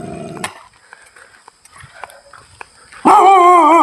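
A dog in a rural farm plantation gives a loud burst of barking and whining at the end, after a quiet stretch with faint scattered sounds and a brief vocal yelp at the start.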